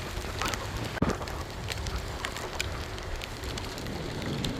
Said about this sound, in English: Yes, that's rain you see.